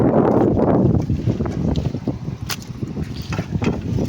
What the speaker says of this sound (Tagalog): Grabing lakas ng hangin mga ka-sisters.